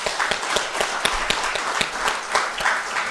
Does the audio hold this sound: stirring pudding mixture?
no